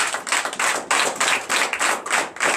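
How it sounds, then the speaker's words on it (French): A church congregation claps loudly at a Sunday worship service in Comè, Benin, in steady bursts of rapid overlapping hand claps that swell and dip in a rough rhythm, with no talking. "Je vous demande d'applaudir très fort."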